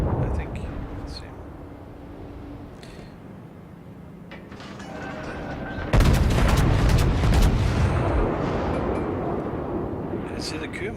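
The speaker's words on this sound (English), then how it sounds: "this will now be the last salvo that I will fire" The ARP Kirishima battleship fires a main gun salvo in World of Warships, a sudden loud blast midway that rolls into a sustained rumble over mechanical game noise.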